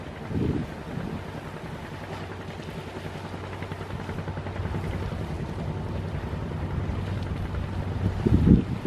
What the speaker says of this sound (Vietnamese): Chiếc ghe đang bắt đầu từ từ ra khơi này.